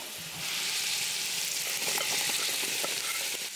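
Pumpkin and other vegetables, with apples to follow, sweat gently in a pan, giving a steady, even sizzle that rises after the first half second and holds close and moderately loud throughout, with faint stirring clicks.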